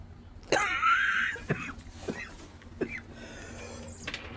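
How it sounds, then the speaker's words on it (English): A man out in the woods clears his throat with a sharp, close hack and then coughs a few more times in short separate bursts, followed by softer rustling. "Just clearing my throat. I didn't mean to cough."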